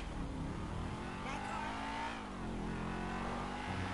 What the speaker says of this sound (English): That way I can hear the purr of my motor of this stolen car.